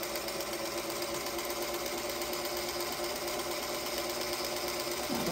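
A sewing machine chain-piecing quilt patchwork pieces runs in one continuous steady whir, close and even for the whole stretch, with no pauses or talk.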